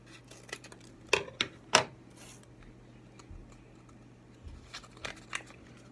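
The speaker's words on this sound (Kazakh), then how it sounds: "Регидрон порошогын біз ашып," A sachet of Regidron oral rehydration powder is torn open, giving a few sharp crinkly rips and snips close by in a quiet room, followed by faint rustling.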